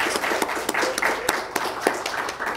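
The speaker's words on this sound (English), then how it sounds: "So maybe a round of applause for him." A conference audience at the FOSSASIA Summit 2016 claps in a brief round of applause, with scattered individual claps standing out over a steady patter.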